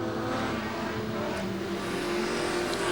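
A 1996 Holden Commodore sedan race car at Archerfield during an Australasian Sedan Championship race, its engine droning loudly and steadily with a rising rev note as it runs past, no voices.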